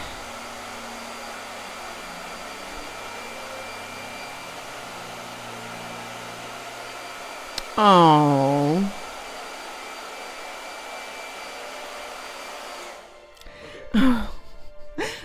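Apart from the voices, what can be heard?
blow dryer running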